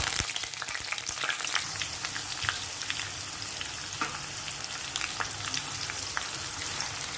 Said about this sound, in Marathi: आता यामध्ये आपण हे कांदा आणि कढीपत्ता घालून घेऊ